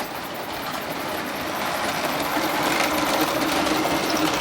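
Märklin model train running around a spiral and layout, a steady close mechanical whir and rattle of the small motor and wheels on track, growing slightly louder as it goes, no voices.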